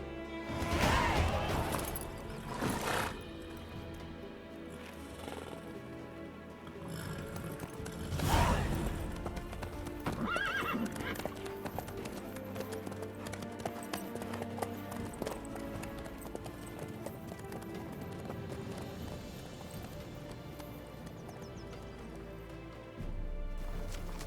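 Horse hooves clip-clop steadily in The Witcher 3, a rhythmic trot of hoof falls layered under a bed of game music, with a couple of louder crashing hits early on.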